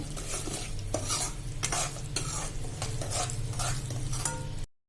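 Sugar sukhdi mixture melts in ghee, a close, steady sizzle punctuated by rhythmic scraping strokes of a spoon stirring against the pan, ending abruptly.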